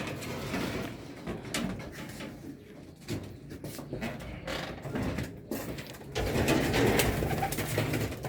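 Soft, repeated cooing of racing pigeons rises through a busy, cluttered backdrop of rustling and mechanical clatter, growing somewhat louder toward the end.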